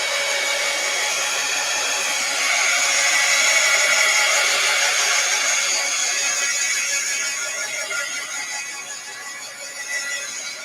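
A hair dryer or heat tool blows steadily over a damp art journal page, a loud continuous whooshing hum up close that holds for the whole stretch and eases slightly toward the end, with no talking.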